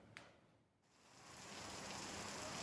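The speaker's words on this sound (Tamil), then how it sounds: "சென்னை புறநகர் பகுதிகளிலும் கனமழை பெய்தது." Heavy rain pours steadily in Chennai's suburbs, a dense broadband hiss that swells after a brief lull and a single sharp knock, with no voices.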